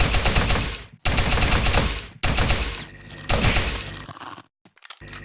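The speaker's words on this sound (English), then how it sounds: "You see the power of the nail gun when it isn't held back by something arbitrary like a fire rate limiter?" Nail gun in the Teleglitch video game firing in long rapid bursts, a loud continuous rattle of shots broken by short pauses, then a few brief stuttering volleys near the end.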